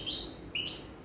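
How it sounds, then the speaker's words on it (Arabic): Bird song played back from a cassette tape: a few bright, high chirping whistles in two short bursts over a low background hiss, close and fairly clear, with no voices. "واخا سي احمد هاد الطير اللي كنسمع كاسيطه هادي مصيبها انت؟"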